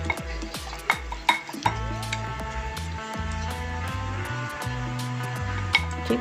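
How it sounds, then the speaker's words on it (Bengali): A spoon stirs and scrapes a potato and semolina batter in a bowl, with repeated clicks and scrapes in an uneven rhythm, close and clear over steady background music. "আমি আরেকটু জল দিয়ে ঠিক এই রকম একটা ব্যাটার তৈরি করে নিয়েছি। খুব ভালো করে মিশিয়ে নেব।"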